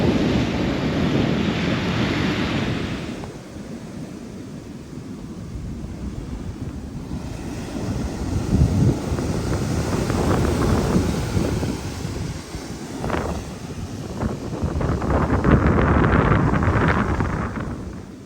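Waves rolling onto a beach in Grenada under steady gusting wind, a continuous wash of surf with wind buffeting the microphone and no voices.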